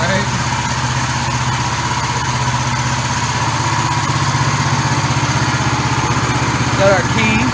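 A 420cc go-kart engine idles steadily and loudly up close, a continuous low rumbling drone with a rattly mechanical edge that holds unchanged throughout.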